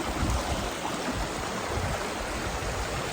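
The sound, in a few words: creek flowing in the outback, New Zealand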